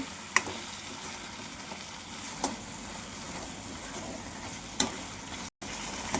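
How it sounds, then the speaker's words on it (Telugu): Fresh mint leaves fry in a pan, producing a continuous low sizzle with a few sharp spoon taps against the pan spaced a couple of seconds apart. "పుదీనా వేపుకుంటేనే మంచి స్మెల్ వస్తుందండి"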